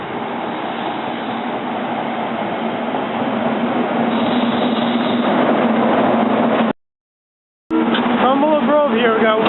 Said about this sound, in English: Now we're just waiting for the R2 to pull in.